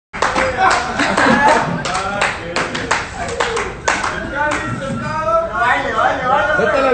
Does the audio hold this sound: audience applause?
yes